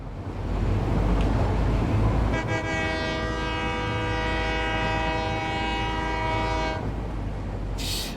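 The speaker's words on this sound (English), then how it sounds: "Train coming? Almost." A video game train rumbles steadily, then a long, loud horn blast sounds from about two seconds in, holding for several seconds before cutting off.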